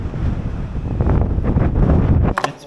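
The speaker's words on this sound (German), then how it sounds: "das ist total windig." Strong wind gusts hard across a hilltop lookout, a loud, steady rushing roar that buffets the microphone and drops off abruptly near the end.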